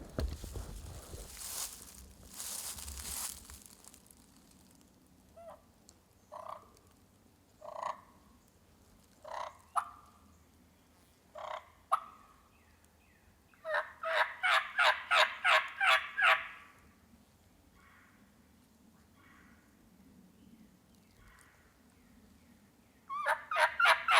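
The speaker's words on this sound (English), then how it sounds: "That one just gobbled again." Wild eastern gobblers in hardwood forest: a series of gobbles sound in bursts, with one rapid rattling gobble near the middle and another at the end, plus softer scattered calls between, all at moderate distance over a quiet woodland background.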